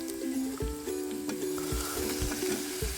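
Onion with ginger garlic paste sautéing in a pan, a steady sizzle with scraping stirring strokes of a spatula recurring every second or so, close and fairly quiet.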